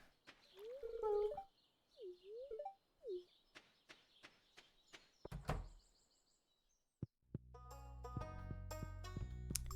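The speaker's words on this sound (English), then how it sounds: "It is fun hearing a bird song and being like, what, who are you?" Chirpy bird calls from the video game Stardew Valley, with a few short whistled up-and-down phrases near the start, then scattered knocks and thumps, and a burst of layered game music toward the end.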